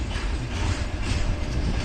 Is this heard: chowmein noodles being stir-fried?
no